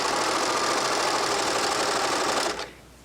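Baby Lock serger overlocker sewing past its cutter and trimming off the thread tail, a loud dense continuous whirring hum that stops abruptly near the end.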